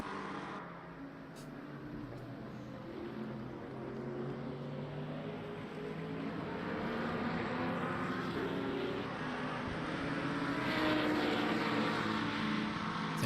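A McLaren GT3 race car engine at wet Interlagos in Le Mans Ultimate, a steady droning whine that builds gradually with spray-like hiss, heard without talk.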